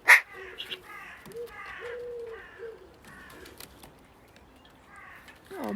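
Distant crows caw repeatedly in rough, evenly spaced calls, with a brief sharp knock at the very start and a quiet background.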